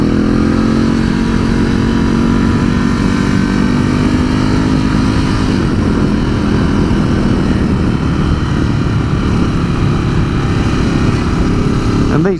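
A 2019 Ducati Scrambler 1100 ridden along country lanes on a Sunday afternoon gives a loud, steady engine drone close to the mic, rising slightly in pitch with continuous wind rush, and a voice talks faintly underneath.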